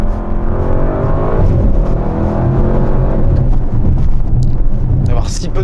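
A 2023 Audi RS7 Performance accelerates hard, its engine roaring loud and steady throughout with a deep, continuous rumble from inside the car.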